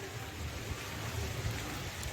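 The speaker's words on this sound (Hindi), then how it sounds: "कहीं जा भी नहीं सकते इस बारिश में।" Rain falling steadily in bad weather, a constant close hiss with a low rumbling undertone, continuous and without speech.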